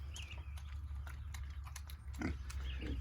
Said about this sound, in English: it sounds like the pigs are up and moving around